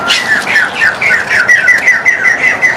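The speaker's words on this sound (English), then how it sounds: "This is Picazaro pigeons and Germain peacock pheasants." Picazuro pigeons and Germain's peacock pheasants in an aviary give a steady series of loud, close, repeated calls in an even rhythm, with no voices.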